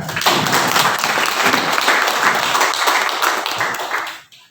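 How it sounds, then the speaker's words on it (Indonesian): Attendees at a Pemuda Pancasila coordination meeting in Bantul break into loud, steady applause that holds for several seconds before stopping abruptly. "Silakan tepuk tangan"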